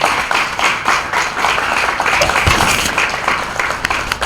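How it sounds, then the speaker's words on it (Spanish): An audience at a plaque unveiling ceremony honoring Segundo Ruiz Belvis breaks into applause, a dense, lively clapping that stays loud and steady throughout, with a few sharper individual claps standing out. "Aplauso para él."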